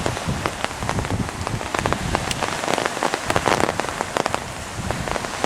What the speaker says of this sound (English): Here comes the rain too.